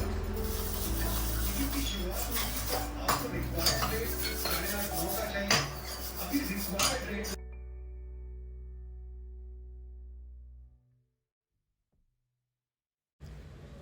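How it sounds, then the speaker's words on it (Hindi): Brass temple utensils clatter and scrape as they are handled and washed, with dense, close metallic knocks and rattles over a low hum. The clatter stops abruptly partway through, leaving a fading hum and then near silence. "और फिर मैं लग गई मंदिर की क्लीनिंग करने के लिए और उसका बर्तन लेके आ गई क्लीन करने के लिए।"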